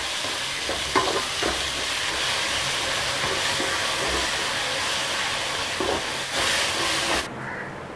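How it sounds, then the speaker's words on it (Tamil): Tomatoes with salt sautéing in a pan for egg curry, a loud, steady sizzle broken by a few stirring scrapes, cutting off sharply near the end. "தக்காளி சீக்கிரம் வதங்கிறதுக்காக சேர்த்துட்டு நல்லா இது நம்ம வதக்கி விட்டுடலாம்."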